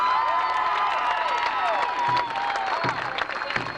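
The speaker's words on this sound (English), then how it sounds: "Let's give Kasem another round of applause" Crowd at the 1997 Save the Dream March cheers and applauds for Casey Kasem, a dense outdoor roar of clapping and whoops with sustained tonal shouts and a few sharper bursts near the end.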